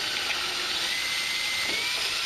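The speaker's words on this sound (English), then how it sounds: "now I just got to drill it out to the bolt size" A steady, high-pitched whine of a power drill running continuously, close and loud throughout, drilling a hole out to bolt size while fitting a ram air intake on a 1999-2004 Jeep Grand Cherokee 4.7.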